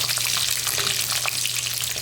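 Bell peppers sizzle and crackle steadily in hot oil in a kadhai, a bright continuous frying hiss close by with no talking.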